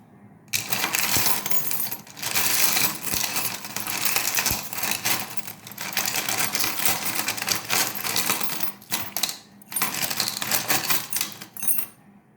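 A spinning wheel of fortune clicks rapidly and continuously in dense rattling bursts over about twelve seconds, pausing briefly a few times, with no voices.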